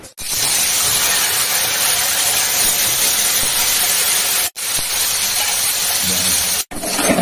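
Fish sizzling in hot oil in a home kitchen pan, a steady loud broadband hiss and crackle running nearly continuously, broken by two brief silent gaps.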